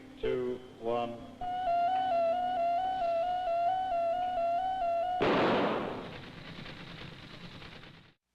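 A high-voltage 30-kilovolt capacitor bank discharges through a donut-shaped ring of gas in a fusion experiment: a loud sudden burst that follows a steady tone and a few short clicks, then trails off into a hiss.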